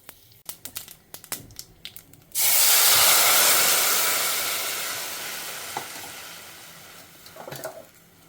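Mustard seeds, cumin and asafoetida hit hot oil for a South Indian tempering, bursting into a loud sudden sizzle that slowly fades, after a few faint kitchen clinks and taps.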